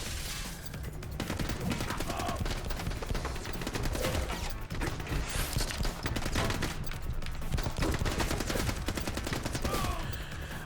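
Rapid machine gun fire from The Club shooter game, sustained bursts rattling continuously for about ten seconds, with mechanical clicks mixed in and no talking over it.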